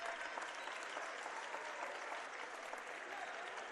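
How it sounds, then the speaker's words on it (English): Steady crowd applause rises from fans at a high school boys basketball sectional semifinal as a player leaves the game. The clapping is even and continuous, moderately distant, with no talk over it. "So fans give him a round of applause"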